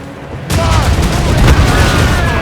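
Ship cannons firing in a naval battle in the video game Assassin's Creed Rogue, a sudden loud onset of dense booming gunfire that rolls on continuously, with shouted commands underneath.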